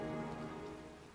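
Steady rain from the Heavy Rain video game, a dense, even wash of falling drops on a surface, close and fairly quiet, fading slightly over a short stretch with no talking.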